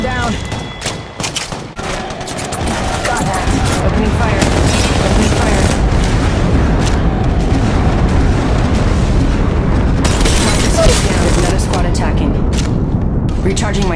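Gunfire in the Apex Legends video game, dense and continuous rapid shots and booms after a few scattered opening bursts, loud throughout.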